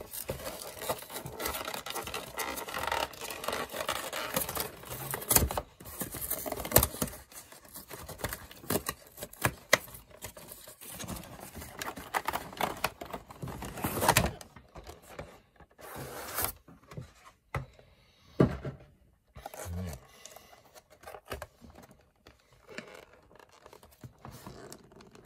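A Pokémon Orbeetle V collection box, holding an oversized foil card, four booster packs and a code card, is pulled open: about twenty-five seconds of close cardboard rubbing, scraping and tearing with small bursts and pauses.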